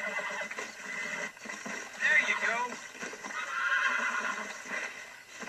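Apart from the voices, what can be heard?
horse neighing while being broken, from video game Red Dead Redemption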